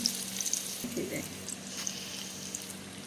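Onion being stirred in hot oil in a pan, a steady soft sizzle running throughout with a brief scraping stir near the start, fairly faint and close.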